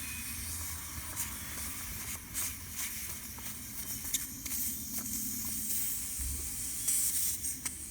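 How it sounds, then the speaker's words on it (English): Air hisses steadily out of an unscrewed valve during the annual inspection of an RV-12 aircraft, a continuous close rush with a few small clicks and no talking. "Hear the air coming out?"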